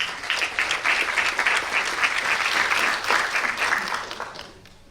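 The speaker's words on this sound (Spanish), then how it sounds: "un aplauso también para Milton" A room of attendees at an economic presentation applauds a presenter with brisk, dense clapping that holds steady, then tapers off and fades in the final second.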